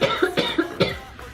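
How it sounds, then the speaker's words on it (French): A person with bronchitis coughs close to the microphone, four or five short, harsh coughs in a quick rhythmic burst, with no speech. "je risque de tousser parce que ma gorge gratte très fort"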